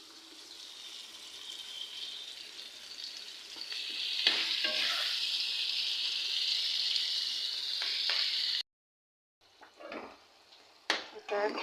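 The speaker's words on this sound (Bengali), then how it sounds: "শুটকির বাগারটা বসিয়ে দিলাম বন্ধুরা।" Dried fish tempering sizzles steadily in a pan, a bright continuous frying hiss that swells when stirred, then cuts off abruptly before a few faint clinks and brief sizzles.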